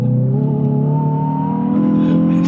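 A Hyundai i20N hot hatch accelerates with a steady, loud engine drone that rises gently in pitch over a few seconds, heard from inside the car without talk.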